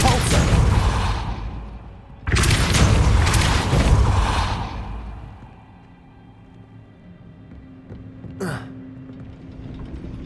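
Depulso force spell cast in Hogwarts Legacy: two heavy, loud booming blasts in quick succession that fade into a low rumble, then a brief sharp swish near the end.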